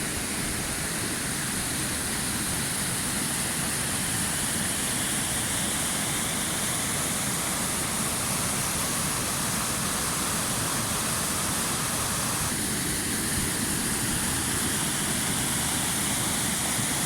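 Bozdoğan waterfall in the Taurus mountains near Karaçoban village, Mersin, roars as a steady, loud, broadband rush of falling water heard close by at a morning campsite, with no voices.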